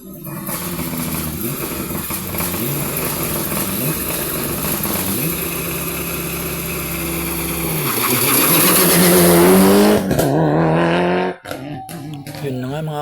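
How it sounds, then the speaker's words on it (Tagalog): Fast race cars at a racing event in Hungary roar past, engines revving and rising to a loud whooshing peak near the end before dropping away, with a voice talking over the noise. "Ang bibilis pala mga sakyan to, mga fast car pala to, mga fast racing."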